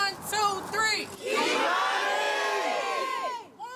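A crowd gathered outside an abandoned house shouts a girl's name in unison, a loud, sustained group yell that swells, holds for a couple of seconds and fades, with a few voices heard before it begins.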